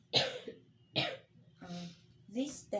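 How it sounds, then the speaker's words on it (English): Four loud, sharp coughs spaced about a second apart, given on request during a throat and cranial nerve examination, each a harsh burst with a throaty tail, close and clear in a quiet room. "can you give a loud cough,"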